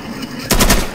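A short burst of rapid automatic gunfire from the shooter video game Insurgency, several loud closely spaced shots over a constant background hum.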